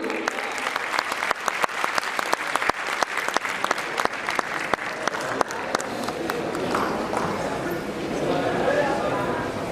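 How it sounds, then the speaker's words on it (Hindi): Audience applause breaks out to welcome a guest at a literary and cultural gathering, a dense, steady wash of many hands clapping close by across the whole stretch, with cheering voices mixed in. "भरपूर तालियों के साथ इस्तकबाल कीजिएगा जनाब शाकिर हुसैन शाकिर"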